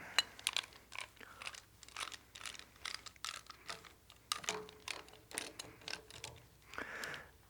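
A metal lathe chuck is test fitted onto a turned wooden tenon for a utility box, giving a run of close, dry clicks, ratcheting clatter and knocks in irregular bursts with no talking.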